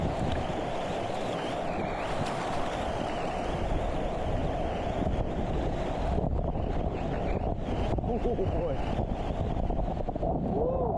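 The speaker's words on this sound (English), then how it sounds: "There was a strong wind out there. I think 25 mile per hour gust of wind." Strong wind gusting at about 25 mph over a river in Cross Mountain Gorge of the Yampa, Colorado, loud buffeting roar against the microphone, continuous with rushing water underneath.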